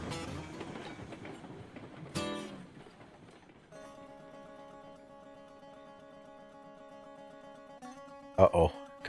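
A steam locomotive in the Railroads Online game rolls along the rails with a steady mechanical hum and ringing tones, a few louder clanks and bumps breaking through near the end.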